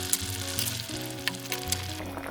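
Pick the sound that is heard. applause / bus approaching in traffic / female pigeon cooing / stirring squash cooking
stirring squash cooking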